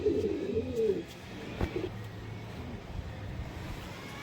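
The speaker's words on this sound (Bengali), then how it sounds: "আসুন আপনাদের দেখাই পায়রা" Pigeons coo in a low, rounded burble close by during the first second, then quieter rustling and faint background hum follow, with a single sharp tap midway.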